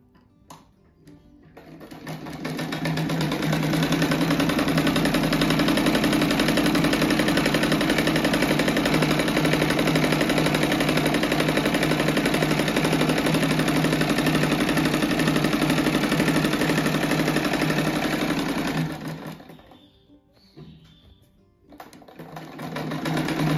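A sewing machine stitches the fabric border of a crochet rug in one long continuous run of rapid mechanical whirring, loud and close, then stops with a few brief handling sounds at the end.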